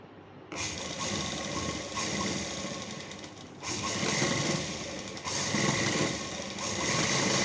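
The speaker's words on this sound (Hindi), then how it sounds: "देखिए हम सिलाई लगा के अब इसको रेडी कर लेंगे।" A sewing machine stitches a night suit pajama in continuous loud bursts of rapid whirring, with brief pauses between runs, close up and with no talking.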